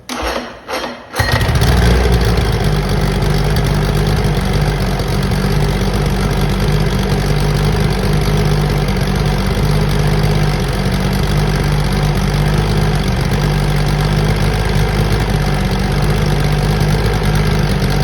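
A 1970 Chrysler 70 hp outboard motor cranks for a moment, catches and starts, then settles into a loud, steady, close idle that runs on without a break.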